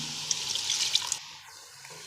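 Water is trickled into a pan of chicken masala, giving a soft, close pouring and splashing that runs for about a second before stopping, with a small clink at the end.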